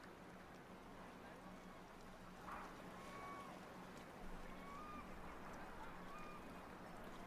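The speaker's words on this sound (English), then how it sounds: "Harbor sounds." A faint, steady harbor ambience plays, with soft water and boat noise and occasional distant bird calls drifting over a low background hum.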